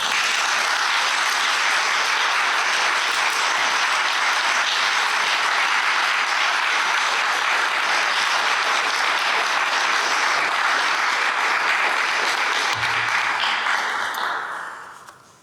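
An audience at a literature forum claps after a speech, dense sustained applause filling the room for about fourteen seconds before quickly dying away at the end.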